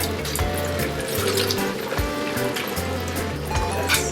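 Broth being poured into a pan during a restaurant-style shrimp moqueca preparation, a wet splashing and gurgling pour up close with a few clinks of kitchenware.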